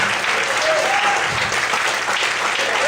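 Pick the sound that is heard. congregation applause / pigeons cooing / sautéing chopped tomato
congregation applause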